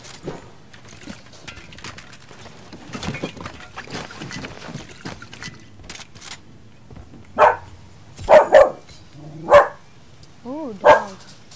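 Dog barks, a few sharp separate woofs near the end after a quieter stretch of indoor background noise, fairly close and moderately loud.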